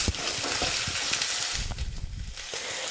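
Onion with ginger-garlic paste frying in hot oil in a home kitchen, a steady close sizzle with scattered stirring scrapes and pops throughout.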